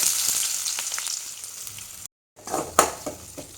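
Sliced onions sauté in a pan with cinnamon, clove and a little biryani masala, giving a steady close sizzle with a few scraping stir strokes; a short gap of silence interrupts it before the frying resumes.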